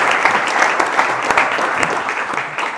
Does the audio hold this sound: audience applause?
yes